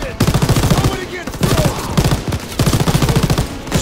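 A mounted machine gun fires in the Call of Duty WW2 PC campaign: loud, rapid automatic bursts in three long volleys with short pauses between them, close and dominant.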